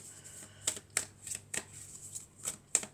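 Tarot cards being shuffled by hand, a series of soft riffling bursts at irregular intervals, close and fairly quiet with no talking.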